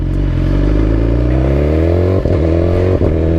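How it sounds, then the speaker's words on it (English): A BMW S 1000 XR motorcycle engine revving hard while riding. The loud, close exhaust note climbs steadily in pitch and dips briefly twice with gear shifts. "as soon as it starts to get up there, it starts to make that sound that is so familiar of a superbike"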